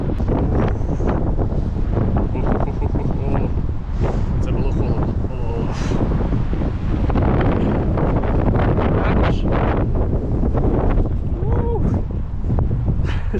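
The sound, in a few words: strong cold wind blowing into the microphone outdoors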